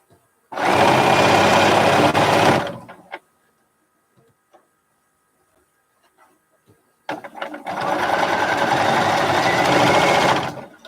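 A sewing machine stitches a quilt seam in two loud, rapid runs of steady mechanical chatter, separated by a quiet pause with a few small clicks.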